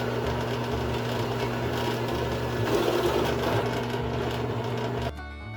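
A drill with a Forstner bit bores a hole through pallet wood being made into a small cutting board. The motor gives a steady close whine and hum for about five seconds, then cuts off abruptly.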